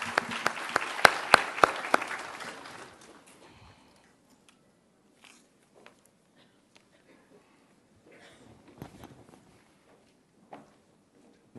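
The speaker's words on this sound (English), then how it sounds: "Please give them a round of applause on stage." A conference audience at a central banking policy session claps for guests taking the stage; the applause is brief, fading out after a few seconds, followed by sparse footsteps and small shuffling noises in a quiet hall.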